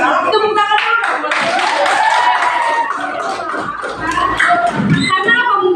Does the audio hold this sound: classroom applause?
yes